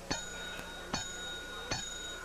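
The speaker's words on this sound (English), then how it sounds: "I rang the bell three times just like you told me" A small service bell on a diner counter is struck three times at a steady pace, each ring sharp and close with a short metallic decay.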